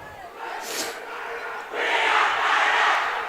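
A high school volleyball crowd of Rapid City Central fans yells and cheers in a gym, a burst of shouting followed by a louder, sustained roar.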